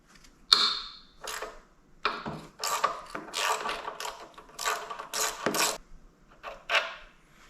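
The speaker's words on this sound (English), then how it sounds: "So we loosen this off, take it all the way out, and then we're able to take the axle right out." A 12 mm Allen key loosens and draws out the front axle bolt on a Suzuki Marauder GZ250 motorcycle, heard as a series of close metallic clicks, ratcheting scrapes and clinks in irregular bursts, with no talking.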